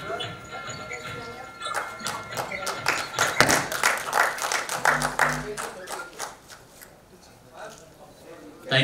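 Audience applause at a Dr Abdul Kalam award ceremony for doctors, a dense, fairly loud crowd clapping that swells and then fades, mixed with voices in the hall.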